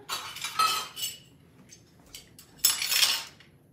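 A metal tablespoon clinks and rattles against cutlery and dishes in a home kitchen, with a few short, close bursts of chinking separated by brief quiet gaps.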